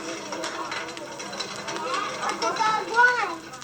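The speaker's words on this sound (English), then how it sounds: "That's the sound of the old hand-operated coffee grinder." An old hand-operated coffee grinder in an old-fashioned general store rasps and clicks steadily, with children's voices chattering in the background throughout.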